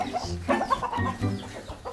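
Chickens clucking in a backyard, a soft, steady stream of overlapping clucks and short calls at moderate distance, with no talking.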